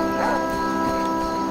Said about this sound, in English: I hear you, dog.